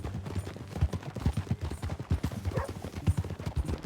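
Horse hooves clip-clop in a steady trotting rhythm in the video game Red Dead Redemption 2, a continuous muffled beat close by with faint background sound and no clear speech.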